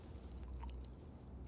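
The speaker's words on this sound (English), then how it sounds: "Do you have to chew so loud?" Loud, close chewing in a dramatized scene of two business partners who live and work together, heard as a steady wet mastication with no talking.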